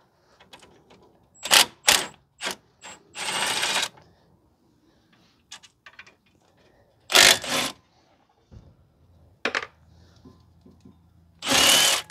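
Several loud, short bursts of a power tool whirring on and off, spaced irregularly, removing the front brake caliper bolts on a 2010 Subaru Outback 3.6, with quiet clicks and clatter between them.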